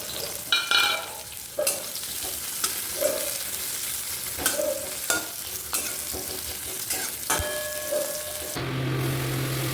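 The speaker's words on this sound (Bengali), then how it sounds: "পেঁয়াজ দিচ্ছি" Onions sizzle as they fry in a pan, with rhythmic spatula scrapes and stirring strokes recurring every second or so, close and steady, no talking.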